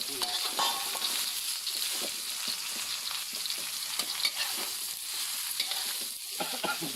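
Luffa gourd stir-frying in a hot pan with duck egg, a steady close crackling sizzle with scraping stirs throughout, no voices.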